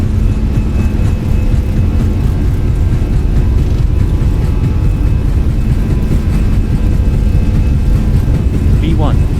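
Airbus A320 jet engines at takeoff thrust in the Fenix flight simulator, a loud, dense, continuous roar with steady rumble throughout the takeoff roll, with speech over it.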